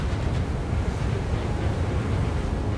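Giant tsunami waves spreading out after an asteroid impact, rendered as a continuous heavy roar of surging water and wind, dense and unbroken throughout.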